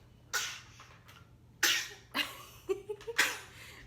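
Several sharp, breathy bursts from a person about 32 weeks pregnant, one strong sneeze-like burst standing out among smaller coughing or throat-clearing sounds, close and fairly quiet.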